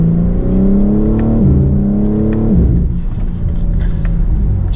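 2024 BMW M4 Competition Convertible with a soft top accelerating, a close, loud engine drone rising through gears with two shift dips, then easing into a quieter cabin rumble.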